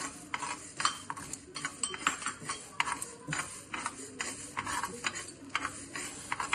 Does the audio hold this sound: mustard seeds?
yes